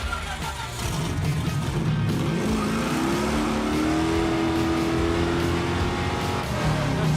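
A project car's engine, worked on a zero-budget build, revs hard and climbs steadily toward about 6,000 RPM, loud and close with a rising, sustained roar and no talking over it.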